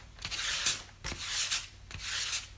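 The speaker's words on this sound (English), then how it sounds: "Taking my fine grit sandpaper, and again, just pulling and dragging across the surface of the entire stamp." Fine grit sandpaper is pulled across the surface of a stamp in three slow, close, raspy strokes, each a soft scratchy rub with short pauses between, with no talking.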